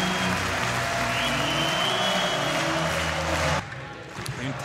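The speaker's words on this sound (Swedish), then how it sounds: "Fullträffen så får SCA Arena att jubla." An ice hockey crowd at SCA Arena roars loudly after a goal in an SHL game between Timrå and Brynäs, a sustained cheer that drops off sharply near the end while a commentator talks.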